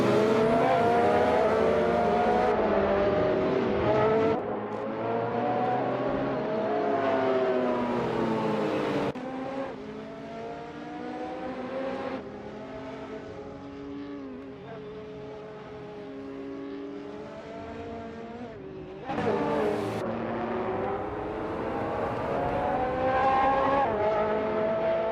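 Race cars in a racing video game, including a 2003 Porsche 911, engines revving and shifting through gears loudly and continuously, pitch rising and falling as they accelerate, with no talk.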